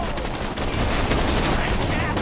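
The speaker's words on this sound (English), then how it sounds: "I'm gonna use this new neutralizing gun" Rapid, dense gunfire from a neutralizing gun in the Borderlands 2 video game, loud and continuous bursts filling the whole moment, with chaotic game effects layered underneath.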